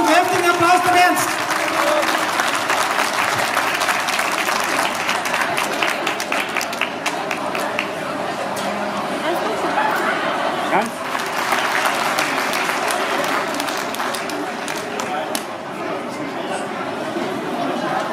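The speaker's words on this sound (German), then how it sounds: "einen ganz kräftigen Applaus dem Ernst" Applause at a cattle show in Uttendorf Stuhlfelden, a sustained, loud round of clapping from a crowd with chatter and voices mixed in throughout.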